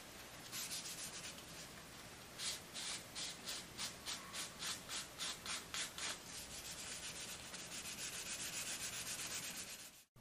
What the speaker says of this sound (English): you can use a scouring pad or fine grit sandpaper, although these will wear down the shaft slightly